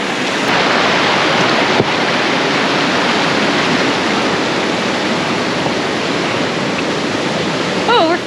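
Creek water rushes steadily in a forest setting, a broad, loud, continuous wash of flowing water that holds an even level from start to finish.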